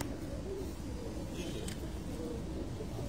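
Pigeons coo softly at a rooftop pigeon-flying show in Sukkur, a low, steady murmur of birds under a constant, fairly faint background hum that runs throughout with no clear individual calls.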